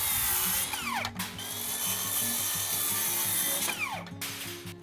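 A power saw cuts wooden rafters to length on a small room extension to a house: a loud, near, continuous motor whine and grinding rasp, with two sharp pitch-dropping bursts as the blade bites and finishes cuts, no talking.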